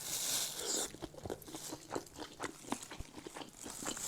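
Crisp crunching bites into a sausage served on a meat platter, followed by close, wet chewing in repeated bursts, loud and near with no talk.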